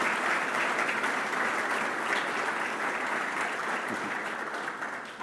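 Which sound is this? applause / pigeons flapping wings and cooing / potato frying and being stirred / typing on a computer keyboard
applause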